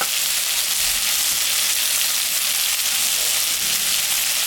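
Radish, eggplant and potato curry frying in a pan, a steady bright sizzle and hiss with faint stirring underneath, close and continuous, without voices.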